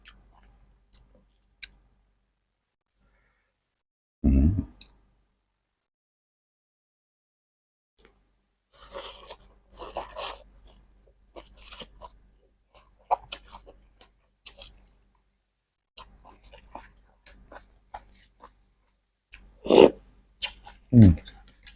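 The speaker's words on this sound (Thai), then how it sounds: "กรอบมากเลยครับ" Crunchy bites and chewing from someone eating a Thai dish of khanom chin noodles with curry and chicken feet. A sharp early crunch is followed by irregular clusters of crisp chewing sounds, close and intimate, with brief gaps between.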